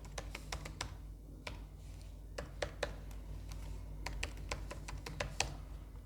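Typing on a computer keyboard while entering an email address at a login screen: rapid clusters of crisp key clicks, close and fairly quiet, with a brief pause partway through over a low steady room hum.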